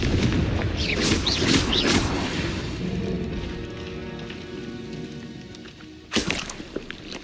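A Confringo fire-blast spell in Hogwarts Legacy erupts amid dense crackling, whooshing game noise, which fades into a low rumble before a sharp, loud explosive burst near the end, trailed by a few small pops.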